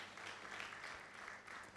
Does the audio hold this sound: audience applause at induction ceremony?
yes